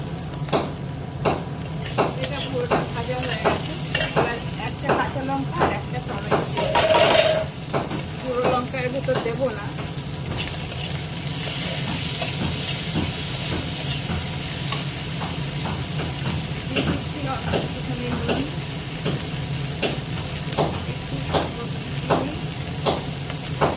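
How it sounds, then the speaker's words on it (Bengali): Food fries in a pan while a utensil stirs it in regular, repeated scraping strokes over a constant sizzle that stays close and fairly loud for the whole stretch. "ওটটা দিয়ে একটু নাড়িয়ে ভেজে নেবো"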